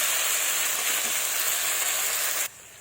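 Potatoes frying in a pan of hot oil, a steady loud bright sizzle running continuously before cutting abruptly to a quieter level near the end, no talk.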